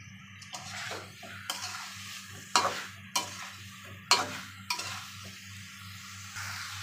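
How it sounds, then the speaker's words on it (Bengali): Spice masala for a rohu fish curry with green banana and potato fries in oil and is stirred, with repeated scraping strokes and utensil clinks on the pot over a low, steady sizzle. "ভালো করে কষানো হয়ে গেছে, দেখো তেল একবারে উঠে গেছে, ভাজা ভাজা হয়েছে, মশলাটা ভুনে গেছে।"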